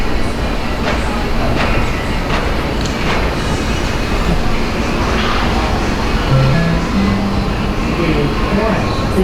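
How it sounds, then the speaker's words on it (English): An LIRR train bound for Ronkonkoma pulls into Mineola station with a loud, continuous rumble and wheel clatter, faint squeals rising near the end, people talking beneath it. "Train to Ronkonkoma will arrive in 1 minute on track 3."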